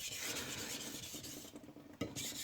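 Kitchen knife edge worked side to side on a sharpening stone, a close gritty rasping of quick strokes with a brief sharp scrape near the end, no voices.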